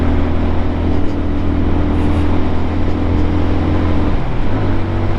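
A brand new Lifan KPM 200 motorcycle on its first break-in ride, the engine a steady, loud mid-pitched drone mixed with wind rush, dropping in pitch near the end as the throttle eases or the gear shifts.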